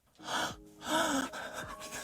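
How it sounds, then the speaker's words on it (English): An exaggerated, drawn-out gasp is heard up close, with two breathy inhales separated by a short pause. "it's not just the gasping"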